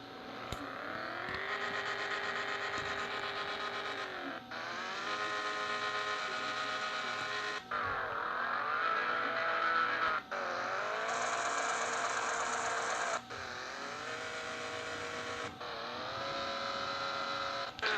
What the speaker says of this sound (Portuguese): Bora ver o ronco do carro.